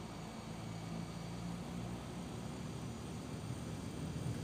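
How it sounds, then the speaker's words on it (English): Steady droning hum of a Pratt & Whitney Canada PT6A-68C turboprop running up on an Embraer EMB-314 Super Tucano in the X-Plane flight simulator, a continuous loud engine whine with low rumble holding throughout, no voices. "let's fire up our Pratt & Whitney Canada PT6A68C turboprop producing"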